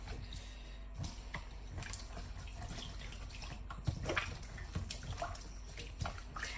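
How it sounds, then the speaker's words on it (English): A lemon is rinsed under running water in a home kitchen, with faint, steady splashing and a few soft drips throughout. "we're just going to give this a little bit of a rinse in here"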